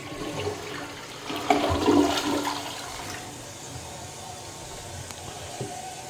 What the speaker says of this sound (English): Here's an American Standard toilet.